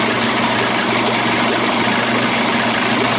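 Johnson Evinrude outboard motor idling steadily throughout, a loud continuous engine drone with a rough knocking vibration running through the low end.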